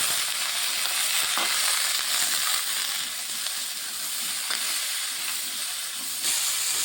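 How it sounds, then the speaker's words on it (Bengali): Vegetables seasoned with salt and turmeric fry in a pan, giving a continuous, fairly loud sizzling hiss with occasional soft crackles and no talking. "এই যে এখন সবজিগুলো একটু ভাজা ভাজা হবে"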